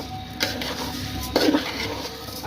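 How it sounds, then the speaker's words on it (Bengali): One kilogram of polao rice frying in oil in a pot over low heat, with a couple of clear metallic clanks and scraping stirs against the pot between a soft steady background. "চালটা ভাজা ভাজা করে নেব।"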